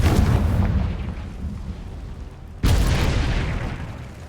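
Confringo fire spell blasts in Hogwarts Legacy: two loud booming explosions, the first at the start and a second sharp burst midway, each followed by a rumbling decay, with no talking.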